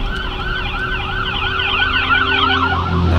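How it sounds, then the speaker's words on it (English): An ambulance siren wails loudly and close by, sweeping up and down in a steady repeating cycle over a low road rumble as it passes on the road. "so I could get to the side of the road to let that ambulance go do its job"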